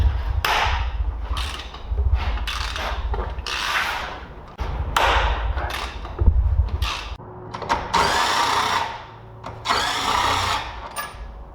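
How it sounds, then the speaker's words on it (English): Cylinder head bolts on a Chevrolet Cruze engine are loosened with a power tool during a blown head gasket repair, working from the corners toward the center. Close, loud bursts of whirring and knocking repeat one after another with short pauses and no talk. "we are losing our bolts, and we start from the corner, from this side, after this side, and go to the center"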